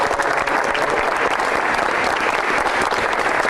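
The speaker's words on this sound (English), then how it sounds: "Clap it up one more time." Basketball campers clapping together in a gym at a youth camp: loud, dense, close applause from a group, sustained evenly with no talk over it.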